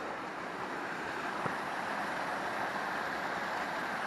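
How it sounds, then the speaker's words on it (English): Steady roar of rushing water, broad and continuous like a nearby waterfall, with no voices over it. "Waterfalls."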